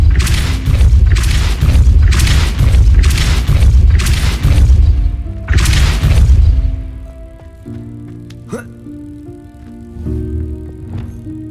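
Heavy booming blasts from the Depulso spell in the Hogwarts Legacy video game, about six loud deep thumps in quick succession, then quieter tonal game effects and a soft chime.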